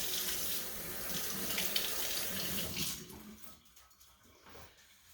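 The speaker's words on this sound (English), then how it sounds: "Wash my hands." Hands washed under a running kitchen tap while cooking, a steady broadband rush of water for about three seconds that then drops away to quieter trickles and splashes.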